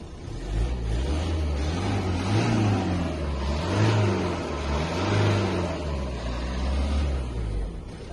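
Engine of a 2009 Ford Focus estate revving in repeated rises and falls, a steady low mechanical drone swelling and easing several times, heard close with no talking over it.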